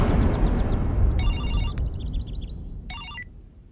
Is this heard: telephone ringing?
yes